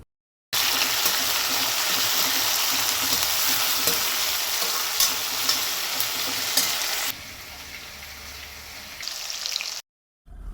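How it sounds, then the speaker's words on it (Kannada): Curry leaves and tomato with onion frying in hot oil, giving a loud, continuous close sizzle with light stirring scrapes, dropping in level partway through and cutting off briefly near the end. "ಎಣ್ಣೆಯಲ್ಲಿ ಆನಿಯನ್ ಸ್ವಲ್ಪ ಫ್ರೈ ಆದ ನಂತರ ಕರಿಬೇವು, ಟೊಮೊಟೊ ಹಾಕಿ ಫ್ರೈ ಮಾಡ್ತಾಯಿದ್ದೀನಿ"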